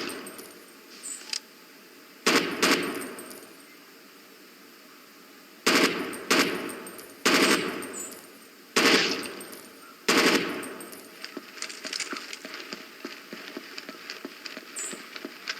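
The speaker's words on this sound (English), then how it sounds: "Welcome to the assault rifle station." Assault rifle fire in the video game Rainbow Six 3, several sharp bursts of automatic shots separated by pauses, followed by a quicker run of lighter rapid clicks and shots, loud and close with no talking.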